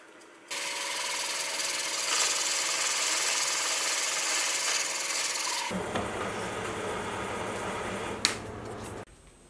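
An 18 mm end mill on a milling machine cuts through a hole, giving a sustained rasping, scraping grind that shifts to a rougher, lower churn partway through before cutting off abruptly.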